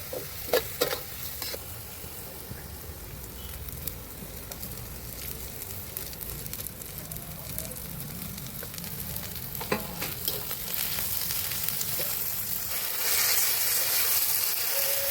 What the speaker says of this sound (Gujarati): હવે તેમાં આદુ લસણની પેસ્ટ અને ત્યારબાદ ઝીણી સમારેલી લીલી ડુંગળી, આ બધાને સરસ રીતે સાંતળી લેવાના છે.